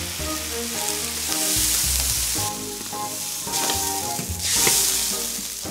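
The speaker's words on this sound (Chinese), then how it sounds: "炒干了，现在再倒一瓶啤酒，" Beer poured over pan-fried ginkgo nuts sets off a loud, busy sizzle with stirring scrapes. The hiss is close and continuous and swells in bursts, with no voices over it.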